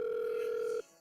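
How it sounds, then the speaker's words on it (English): A mobile phone call rings out as a steady electronic ringback tone, one continuous tone of under a second that cuts off abruptly, heard alone with nothing else. "I immediately place a call to her mobile. It rings for a good minute"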